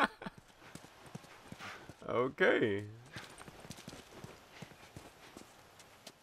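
Horse hooves clopping in The Last of Us, heard as scattered soft footfalls through the clip, with a brief louder burst in the middle and a voice speaking a word.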